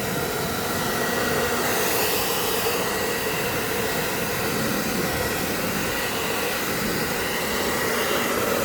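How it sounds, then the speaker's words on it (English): A steady, loud blow dryer heating plastic film window insulation roars without pause, a constant broadband whoosh with no voices over it. "then you hit it with the blow dryer heat"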